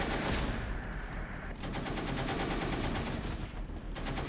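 Rapid .50 caliber machine gun fire in a combat game, a dense, continuous rattle of shots heard at a distance and fairly quiet, broken by a short pause before the bursts resume.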